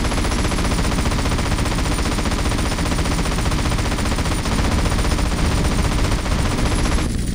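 Aircraft guns in the video game GTA San Andreas, a loud continuous rattling burst of rapid gunfire that runs steadily for several seconds and then cuts off abruptly.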